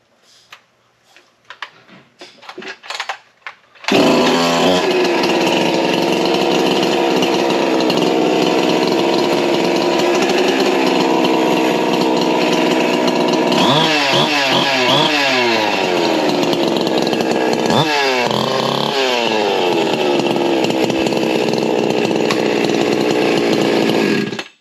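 A Husqvarna 346xp chainsaw fires up after a few quiet clicks and runs loud and close at a steady high idle, with brief revving blips partway through.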